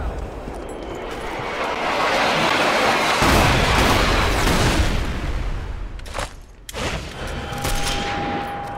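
A sustained, heavy rumbling blast from a bomb in the war shooter game Sniper Elite 4, rolling on loudly for several seconds with crackling debris and distant gunfire-like texture, then tailing off.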